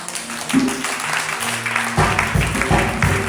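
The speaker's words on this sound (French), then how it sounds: "Est-ce que tu peux acclamer Jésus?" Church congregation applauding during a Sunday service, a broad wash of clapping under music with a steady beat, moderately loud and continuous.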